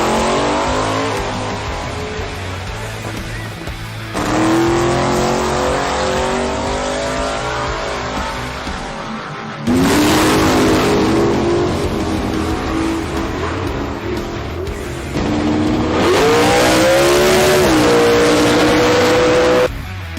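A drag race car on Kenda drag radials at Willowbank, Australia, screams loudly down the track in three rising surges of engine revs that climb in pitch, close and powerful.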